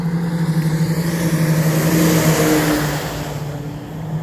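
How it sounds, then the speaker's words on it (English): Traffic on a road in central Logan County, Ohio, rumbles past close by, a steady loud engine roar that swells and then eases as a vehicle passes. "as we got quite a bit of traffic today on this particular road"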